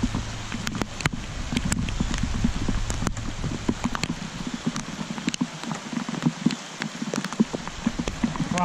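Steady rain pattering on a surface, with dense irregular drops and occasional louder splats throughout, close by and continuous.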